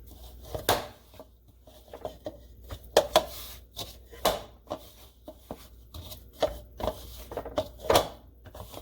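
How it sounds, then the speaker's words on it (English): Fry bread dough kneaded by hand on a surface, heard as repeated soft thumps and presses at an irregular rhythm, close and fairly quiet, with no talking. "I'm going to go ahead and knead this some more for just a few more minutes"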